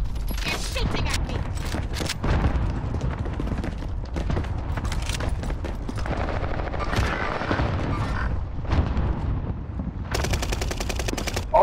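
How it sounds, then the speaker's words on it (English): Dense automatic and single gunshots from a Call of Duty: Modern Warfare match rattle almost without pause, with bursts and a sharp volley near the end, under excited talk from players. "He's shooting at me."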